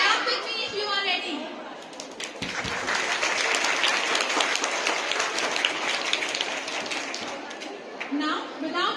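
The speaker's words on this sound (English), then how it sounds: "Clap with me if you are ready." Children applaud at a Christmas Day school assembly, breaking into a loud burst of crowd clapping and cheering that swells and holds, with an adult voice speaking at the start and end.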